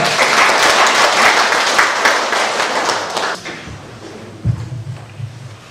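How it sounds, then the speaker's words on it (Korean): An audience at a healing camp gathering claps loudly to welcome a chairman to the stage, a dense burst of applause that thins and fades after about three seconds, followed by a few faint thuds and brief murmuring. "큰 박수 부탁드리겠습니다"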